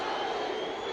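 Dense crowd roar at a Muhammad Ali versus Joe Frazier boxing match at Madison Square Garden, a steady wash of massed voices from fans throughout, without distinct individual speech.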